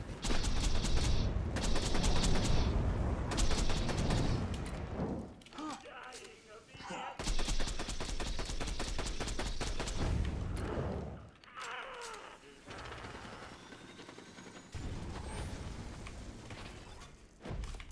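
Rapid gunfire in the video game Borderlands 2 comes in dense bursts over game music and effects, with pauses between volleys, while someone talks over it.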